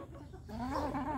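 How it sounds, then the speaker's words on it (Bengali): Backyard chickens and roosters kept alongside pigeons cluck nearby in a short burst, fairly close and alone without speech. "সব কটাই মোরগ, মুরগি, কবুতর।"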